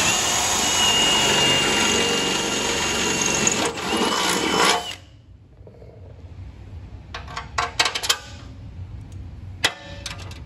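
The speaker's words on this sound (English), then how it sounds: "then we'll drill a hole through it." A power drill bores a hole through a kart seat mount, giving a steady, loud, high motor whine for about five seconds before it cuts off, followed by a few light metallic clinks and taps.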